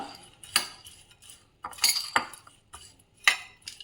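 A spoon mixes a green gram snack with chat masala and salt, giving sporadic metallic clinks and scrapes against the bowl, close and fairly quiet, with no talking.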